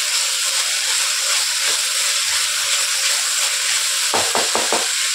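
Chopped tomatoes sauté in hot oil for a vegetable kurma, giving a steady, close hiss of frying with a few brief stirring scrapes near the end.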